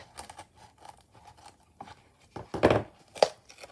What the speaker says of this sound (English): I just use some really sharp scissors that are thin enough to get into that gap